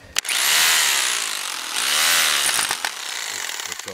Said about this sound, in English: Just put it on the hammer part, or that's hammer drill.